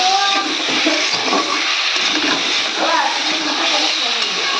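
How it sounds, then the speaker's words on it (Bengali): Water pours steadily into a pan of cooking cauliflower and fish curry, a continuous loud rushing splash lasting several seconds. "এবার আমি জল দিয়ে দেবো"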